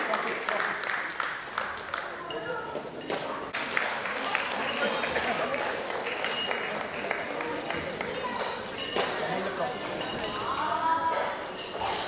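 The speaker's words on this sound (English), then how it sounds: "Let's please have a round of applause for her." Applause from the audience for a student at a Kumon award ceremony, steady clapping that continues for many seconds with voices talking over it.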